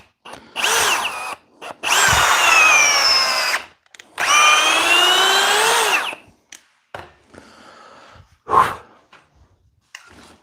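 A Milwaukee M12 power tool drives a fastener in loud, close bursts: two long whirring runs of about two seconds each, rising in pitch as they go, then quieter short blips and a sharp thump near the end.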